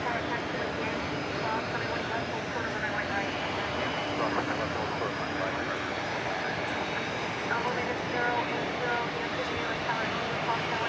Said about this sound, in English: the MD-11 is now moving on 17 right